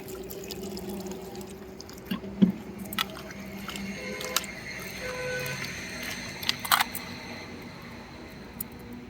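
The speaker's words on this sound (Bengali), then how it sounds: "পটলটায় জল দিয়ে একটু ধুয়ে নেব" Pointed gourd (potol) being rinsed with water in a kitchen: soft splashing and wet squishing with a few brief knocks and clicks, fairly quiet and up close.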